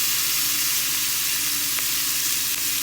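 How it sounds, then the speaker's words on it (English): Half a medium onion and half a medium green pepper sizzle loudly in a pat of butter over high heat, a dense, steady crackling hiss that fills the whole stretch with no talking. "we're gonna cook this on high to cook this down a little bit"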